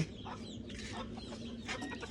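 Backyard chickens cluck and murmur close by in a steady stream of soft, overlapping calls, with a low background rumble beneath.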